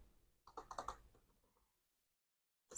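Keys clatter on a computer keyboard in a quick burst of typing, then a pause and a single sharp, loud keystroke like an Enter press at the end.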